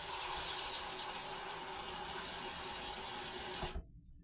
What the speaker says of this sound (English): a cup of water and put it in my pot